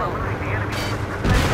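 Missiles launch from a jet in Ace Combat 7, a dense roaring whoosh under constant engine noise that swells louder toward the end.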